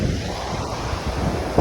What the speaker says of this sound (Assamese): পুৰা সাগৰ, বহুত ডাঙৰ ডাঙৰ ঢৌ মাৰি আছে ইয়াত।